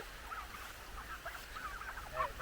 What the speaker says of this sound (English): Not too hard to herd turkeys, even though it's a slow process.